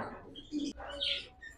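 Cream cockatiels kept as breeding pairs in cages at a bird market in Burewala give a few quick, fairly faint chirps and tweets in a brief burst, close by.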